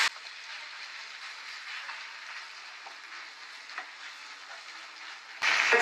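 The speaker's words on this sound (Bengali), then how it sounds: "চিকেনটা হালকা শ্যালো ফ্রাই করে নিচ্ছে" Chicken shallow frying in a pan with butter and a little oil, giving a steady, moderately quiet sizzle with faint crackles throughout and a louder burst of sizzling near the end.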